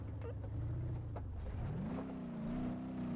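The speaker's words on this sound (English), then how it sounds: "Got to definitely keep the engine in the upper end of the tachometer and the revs" Car engine in the driving game BeamNG.Drive, a slow Hirochi Sunburst-based mod car, revving steadily with a rising pitch held near the top of the rev range, loud and continuous throughout.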